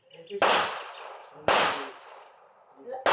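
Three loud, sharp gunshots crack at an outdoor firing range in Peñablanca, Cagayan, spaced about a second apart, each with a short trailing echo.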